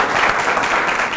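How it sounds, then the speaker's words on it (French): A crowd at a Côte d'Ivoire gathering with the U.S. ambassador claps loudly and continuously, a close, dense burst of applause with no talking. "Je vous demande d'applaudir très fort."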